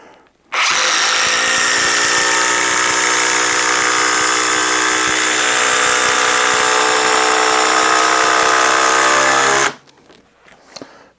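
A Ridgid impact driver runs a long 8-inch fastener home in one continuous loud whirring hammer of about nine seconds. Its pitch drops slightly as the fastener bites, then it stops abruptly.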